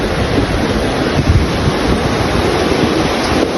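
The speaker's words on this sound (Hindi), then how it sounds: "देखें दिख तो नहीं रहा होगा लेकिन नीचे पानी बह रहा है।" River water rushing below a bridge on a mountain road in Kalam, Swat, a loud, dense, constant roar with heavy low rumble and wind buffeting the microphone, no voices.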